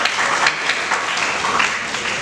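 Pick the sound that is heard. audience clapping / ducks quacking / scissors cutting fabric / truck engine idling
audience clapping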